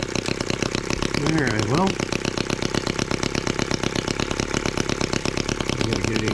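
An M14 twin-cylinder tractor engine runs steadily under load, its rapid regular firing pulses loud and close throughout, with a brief tonal whine near the start and someone talking briefly over it.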